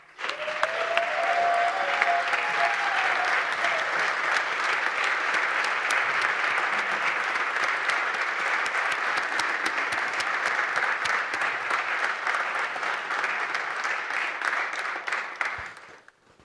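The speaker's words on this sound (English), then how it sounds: "Let's give them a round of applause." Audience applause in a legislative chamber honoring a tribal environmental advocate, a long steady wash of many hands clapping that swells quickly, holds evenly, then tapers off at the end.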